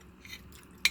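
Someone chews minced pork up close in a brief, soft burst of mouth sounds, ending with a sharp moist click.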